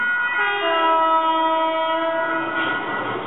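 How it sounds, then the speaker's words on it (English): A diesel freight train hauls its wagons south through the small town of Coolawong on a busy freight corridor, its horn sounding as a loud, sustained multi-tone blast over steady rumble. "a diesel train heads south, hauling its wagons through the tiny town of Coolawong"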